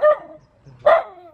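A dog at a rural Vietnamese house gives two sharp, close barks about a second apart, loud and alone.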